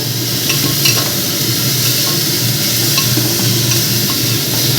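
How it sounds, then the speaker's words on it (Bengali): Mushrooms with carrot, beans and capsicum are stirred in a hot pan, a loud continuous sizzle with scraping strokes of the spatula repeating through the clip. "তারপরে মাশরুম এগুলো আমি সব এর মধ্যে দিয়ে দিলাম দিয়ে এবার ভালো করে আমি নাড়াচাড়া করব"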